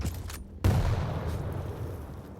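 Machine gun fire in a Quake Pro League duel, heard as a loud burst of rapid shots followed by a sustained rattling barrage, with no voices.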